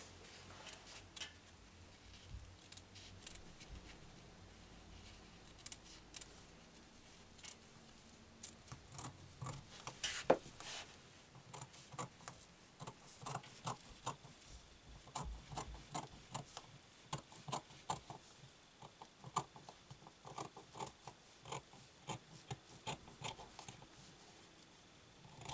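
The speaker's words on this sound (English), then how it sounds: "Just going to cut a little bit before, trim out some of the fabric." Quiet, close snips of scissors trimming fabric at a garment neckline, a scattered series of small clicks and cuts with soft handling rustle between them.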